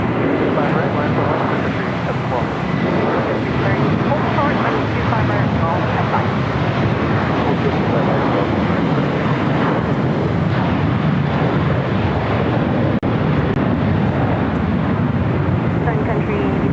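JetBlue Airways A321 taking off from runway 25 right at Los Angeles airport, a loud, sustained, broadband jet roar that stays heavy throughout, with wind buffeting on the microphone.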